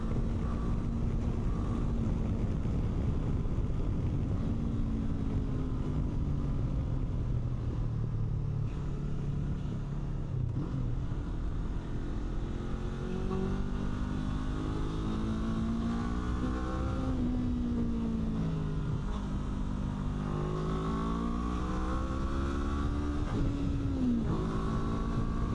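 A 2025 Honda NX500 motorcycle with a 19-inch front wheel accelerates at speed on the road, its steady engine drone rising and falling through the gears under constant wind rush, with no talk.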